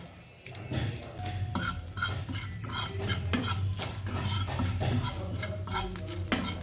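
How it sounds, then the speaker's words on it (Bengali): Fried chillies being stirred in a pan with salt and black cumin: a spoon scrapes and clinks against the metal in a quick, irregular rhythm over a soft sizzle, close up and without speech. "আমি নাড়াচাড়া করে নিচ্ছি"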